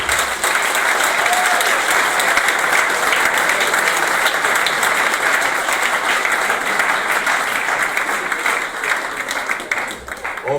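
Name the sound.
audience applause acclaiming couples at dinner event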